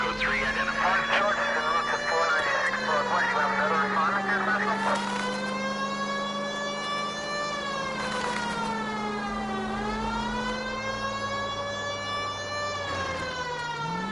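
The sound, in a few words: siren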